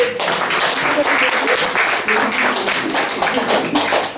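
A church congregation applauds with dense, continuous clapping, loud and near, with voices mixed into the crowd noise.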